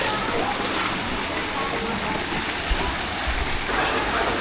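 A waterfall in Mindoro pours steadily, with broad continuous rushing and splashing water filling the scene close by, a few low thumps under the constant roar.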